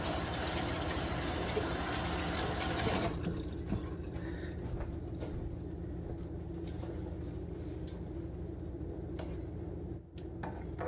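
A tap runs steadily as hands are rinsed in a home kitchen after a pot of chili is made, a loud broad hiss for the first three seconds that then drops to a softer, lingering trickle.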